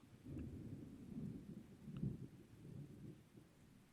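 Quiet rain with low, rolling thunder in a city setting; the rumble swells and fades continuously, peaking briefly near the middle.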